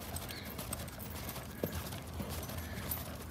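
Hooves of a loping horse clip-clop in a steady rhythm, moderately close, over a low outdoor background.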